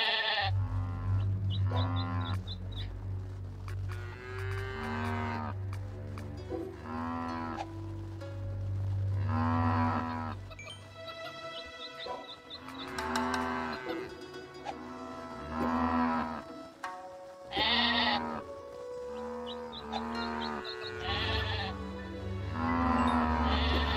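Farm animals from the video game Craftopia, sheep bleating repeatedly in drawn-out, wavering cries that come and go steadily over a low, continuous background hum, fairly loud and close.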